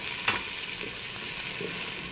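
Onion frying in oil for sinigang na bangus sa miso, a steady hissing sizzle with one sharp pop early on, close and fairly quiet, no talking.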